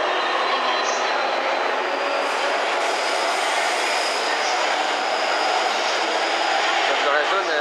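An E531 series commuter train rolls past between Ueno and Nippori in Tokyo, a steady, loud broadband rumble of wheels and motors that holds throughout with no break, close by and continuous.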